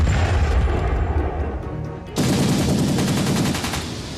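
Warship cannon fire in a documentary reconstruction of the sinking of HMS Coventry: a low rumble gives way to a sudden loud burst of rapid, evenly spaced shots that continues steadily to the end.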